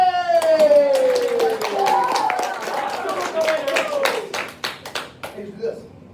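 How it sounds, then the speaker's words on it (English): A small group gives a few scattered handclaps that trail off, following a drawn-out shouted voice, with talk over the start. "get ready for some applause"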